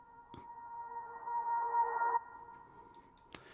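A reversed reverb tail of strings: a sustained tonal wash that swells gradually, then cuts off abruptly, leaving a faint lingering ring; a soft click sounds near the start and end.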